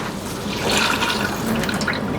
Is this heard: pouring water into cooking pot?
yes